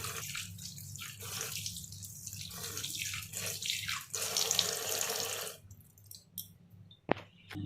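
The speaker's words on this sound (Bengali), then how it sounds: "ভাতটা আমার ধোয়া হয়ে গেছে তাও একবার একটু জল দিচ্ছি" Tap water runs steadily onto already washed rice in a pot, a close, continuous splashing that stops partway, followed by a few drips and a sharp click.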